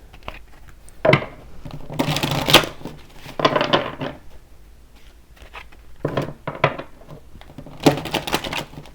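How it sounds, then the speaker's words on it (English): A deck of tarot cards being shuffled by hand during a reading, giving several bursts of riffling and rubbing card noise separated by short pauses, close and moderately loud with no talking. "One more shuffle."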